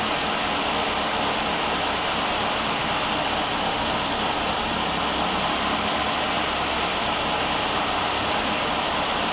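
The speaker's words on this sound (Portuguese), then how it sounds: "A marcha lenta dele, ó, fica doida ali, ó." A Peugeot 208 engine idles roughly, its steady close-up rumble wavering unevenly throughout with no talk over it.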